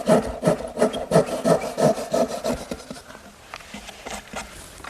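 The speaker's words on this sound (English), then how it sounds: "To make the cross cuts, which lock in the dovetail, they're at a slight angle, and I'm simply going to use my dovetailing saw." A dovetail saw draws steady back-and-forth strokes through wood, cutting angled cross cuts by hand; about a dozen rhythmic rasping strokes sound close and clear, then fade into quieter scraping.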